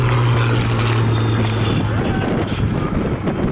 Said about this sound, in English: this wonderful Polish Mark 5B Spitfire